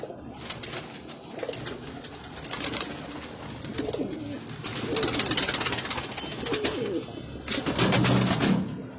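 Pigeons coo repeatedly in soft, rolling calls close by, layered and continuous over a dull background, with no speech.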